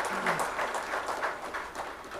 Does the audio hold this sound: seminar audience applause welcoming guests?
yes